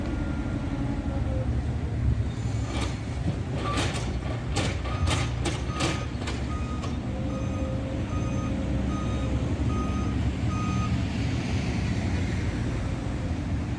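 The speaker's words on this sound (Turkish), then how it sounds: "Buradan kamyona yükleyerek döküm sahasına göndereceğiz." A truck at a Turkish construction site being loaded with demolition rubble for the dump site beeps in a steady reversing rhythm, a run of evenly spaced tones over a constant engine rumble and site noise.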